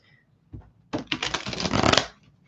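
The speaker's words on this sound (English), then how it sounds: "I'm going to shuffle these cards again" Tarot cards being shuffled up close: a short riffle, a pause, then a longer rapid riffling burst lasting about a second before stopping.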